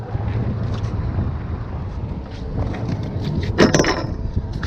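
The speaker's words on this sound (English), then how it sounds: "It's a windy day." Wind blows steadily across a dock on a gusty day. The roar is loud and buffets the microphone, with a brief sharper burst near the end and no talking.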